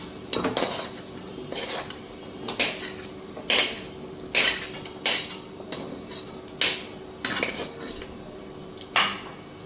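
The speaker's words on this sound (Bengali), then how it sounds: "আলুটাকে এবার আমি তুলে নিচ্ছি" Fried potatoes being scooped out of a pan with a metal utensil, a run of sharp clanks and scrapes against the pan at irregular intervals over a soft background sizzle, no voices.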